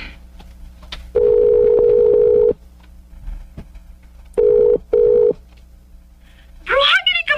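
A phone call sounds as a steady electronic ringback tone in long and short bursts, with a brief squeal and speech-like sound at the end.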